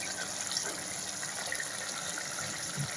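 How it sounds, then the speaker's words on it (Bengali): Water poured into a small bowl in a home kitchen while making tomato aloo posto, a steady, close gushing stream that runs without break and without any talk. "এখানে বাটিতে একটু জল নিয়ে নেব"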